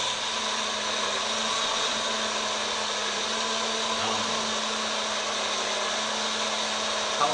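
A kitchen blender whirs at a steady, high-pitched drone without a break, loud and close, with no voices over it.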